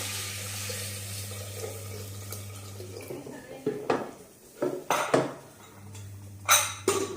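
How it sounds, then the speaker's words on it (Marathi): Tap water runs steadily into a pot of cleaned pigeon peas in a kitchen, then stops, followed by several close clinks and knocks of the pot and utensils. "त्याच्यामध्ये पाणी टाकायचं."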